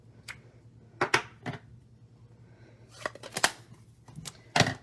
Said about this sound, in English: I am going to do some fancy die cutting.